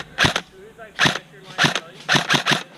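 Airsoft guns fire in sharp bursts outdoors during a team capture-the-point game, about eight snappy pops in small clusters spread across a few seconds, close and fairly loud.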